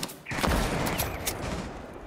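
Gunfire in Rainbow Six Siege, a burst of rapid shots erupting after a quiet start, sustained and loud with a sharp crack near the middle and no voices.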